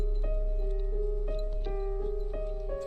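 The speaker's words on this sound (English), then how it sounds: "Now we put the reverb effect on it that I just showed you." A slowed song with reverb applied plays steadily, sustained tones and regularly spaced soft beats blurred together by a washy tail, moderately loud, with no talking.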